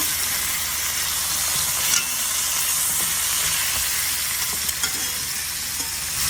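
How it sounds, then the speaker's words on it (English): Oxtails searing in a hot pan give off a steady, loud sizzle with a few small pops and stirring clicks along the way. "I'm gonna let them sear, and we're gonna flip them over."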